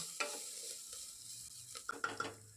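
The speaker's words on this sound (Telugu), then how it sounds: "ఇప్పుడు కట్ చేసి పెట్టుకున్న 2 ఆనియన్స్ని వేసుకొని ఇవి మెత్తబడేంత వరకు ఫ్రై చేసుకుందాం" Chopped onions frying in a pan with a little oil for vegetable biryani, stirred now and then. A soft, steady sizzle with quiet scraping strokes and a few sharper clicks near the end.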